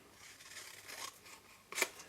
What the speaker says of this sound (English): then I'm just going to go in with my scissors